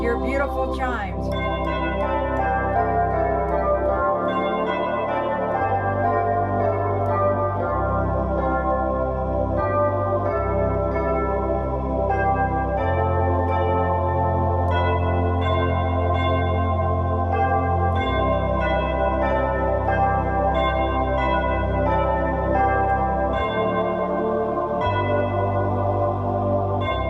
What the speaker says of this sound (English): And under 5, your beautiful chimes.